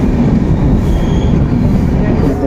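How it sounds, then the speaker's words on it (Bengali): A passenger train pulls out of Bishnupur station, heard from on board as a loud, continuous rumble of wheels and carriages with no break. "ছেড়ে দিল বিষ্ণুপুর থেকে ট্রেন"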